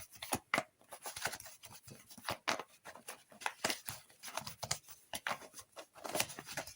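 Tarot cards being shuffled for a reading, a quick close run of crisp riffling flicks and soft slaps that keeps a busy, uneven rhythm throughout.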